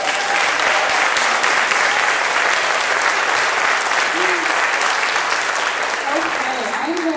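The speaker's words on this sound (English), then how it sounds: "One more round of applause." Sustained applause from a concert audience for a school orchestra, dense and steady throughout with a few voices and whoops rising over the clapping.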